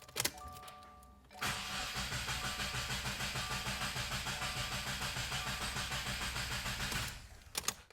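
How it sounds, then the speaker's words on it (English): A Subaru FA20 boxer engine cranks steadily for about six seconds without firing, a fast rhythmic starter churn while the key cycle primes oil, starting abruptly after a quiet moment and cutting off just as suddenly. "the car is going to try to turn over, but it's not going to fire the injectors in the car, keeping the car from starting up"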